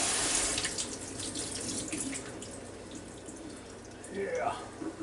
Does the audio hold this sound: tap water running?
yes